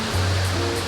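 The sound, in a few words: waterfall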